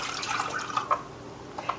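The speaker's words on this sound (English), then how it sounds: "pour out your water." Water being emptied from an unplugged essential-oil diffuser, a light splashing trickle with a few brief drips, soft and close.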